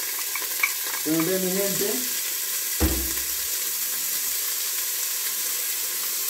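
Onion goes into a pot of oil colored with achiote and sautés with a brief burst of sizzling and stirring, then a soft steady fry beneath a short spoken remark and a clunk of utensils.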